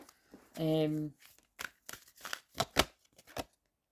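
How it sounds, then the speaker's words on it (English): Tarot cards are shuffled close up in a quick run of crisp, papery riffles and snaps, after a short hummed vocal sound. "Let's shuffle one of these."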